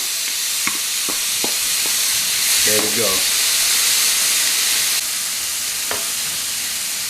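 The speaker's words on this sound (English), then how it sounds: "You're gonna hear the sizzle." Kimchi sizzles and crackles steadily in a hot frying pan, with a few stirring clatters and a brief spoken remark partway through.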